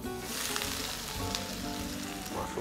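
Lemongrass, garlic and Holland onions frying in a wok for chicken rendang, a loud continuous oily sizzle and crackle close up, with faint stirring scrapes and no voices.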